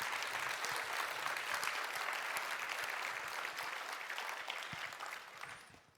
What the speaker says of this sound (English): Give them a round of applause, yeah.